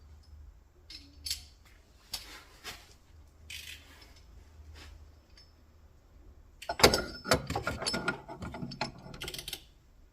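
Ball joint extractor being tightened on an Opel Corsa B, with scattered metallic clicks and ratcheting taps, then a denser burst of rapid clanking and scraping toward the end, close up.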